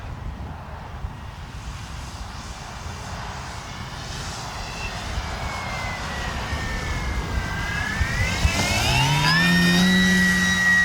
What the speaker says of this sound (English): This is the second time I've ever flown this plane